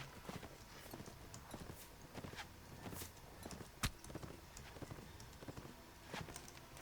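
Horses in the Mount & Blade: Warband game clatter with a quick, irregular clip-clop of hooves and one sharp louder knock, faint throughout and heard on their own.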